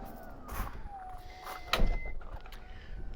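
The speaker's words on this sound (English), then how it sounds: "I just opened the back door, didn't I?" The back door of a 2019 Toyota Alphard SR 2.5i hybrid people carrier opens with a mechanical clunk and a short whirring power-door motor sound, moderately close, amid faint background noise.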